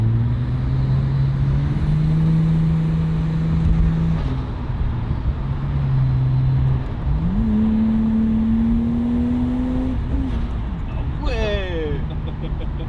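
A Nissan Skyline R34 with a single-turbo RB25 engine revs and accelerates through several rising tones. The engine drone stays loud and steady, with a sharp whine near the end, and people talk over it.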